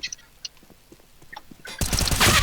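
Rapid M4A1-S rifle spray fire in the video game CS:GO, a dense burst of loud gunfire that erupts near the end after quieter scattered clicks and faint sounds.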